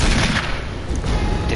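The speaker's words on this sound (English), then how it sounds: "Did Chris have some sort of a faster recoil resistance with the Magnum" Magnum gunfire in the Resident Evil remake, played as Chris: a dense, continuous barrage of booming shots and low rumble fills the moment at steady loudness, with no talking.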